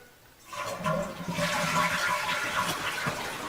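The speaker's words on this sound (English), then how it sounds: "And let's see if it flushes" A toilet fitted with a handwash sink on its tank flushes up close, a sudden loud rush of water that swells and then holds as a steady roaring drain and refill with no talk over it.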